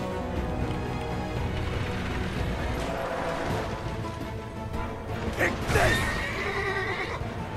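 A horse whinnies amid busy Assassin's Creed Revelations game sounds and a low rumbling background, with a sharp clattering burst near the end.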